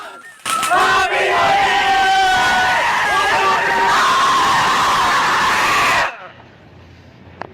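A crowd shouting together in a loud group battle-cry style yell, sustained for several seconds and then cut off abruptly, leaving a quiet background.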